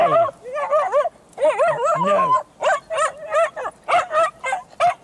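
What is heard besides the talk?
dog barking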